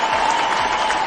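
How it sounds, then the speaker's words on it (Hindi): An audience applauds at a Hindi talk, with dense, steady clapping from a crowd heard close and loud through the whole short burst. "एक जोरदार ताली होनी चाहिए उनकी"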